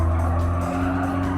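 A Hyundai Ioniq 5 N in Gran Turismo 7 slides its tail under braking, with a loud sustained tire squeal over a steady tonal drivetrain hum that lasts throughout.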